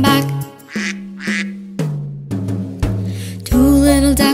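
Loud, close duck quacks come in a rapid run of short, nasal calls, the last one longer and more drawn out, with nothing else heard.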